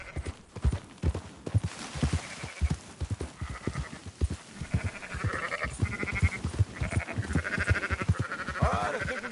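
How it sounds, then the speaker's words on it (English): Sheep bleat repeatedly in Red Dead Redemption 2 over steady clip-clopping horse hooves, the livestock calls rising through the second half as the herd is driven along. "Marston, why don't you leave the sheep to me?"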